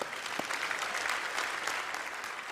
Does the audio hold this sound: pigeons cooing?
no